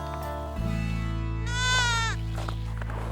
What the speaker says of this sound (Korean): 그와 함께 산을 오르는 300마리가 넘는 양과 염소들